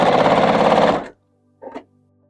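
A sewing machine stitches quilt pieces in a fast, dense whir for about a second, then stops abruptly; after a pause comes a brief short burst, close up, with no talking.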